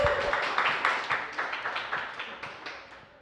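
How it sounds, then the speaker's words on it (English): Applause from an open mic night audience at Starta Studios, a dense run of many overlapping hand claps that swells and then gradually tapers off across the room. "please give a loud round of applause for Fripp"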